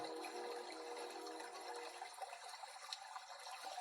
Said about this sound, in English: We're sitting by water.